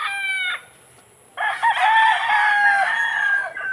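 A gray three-way-cross gamecock stag crows close by, a short call followed after a pause by a longer, strained crow, loud and clear with no talk.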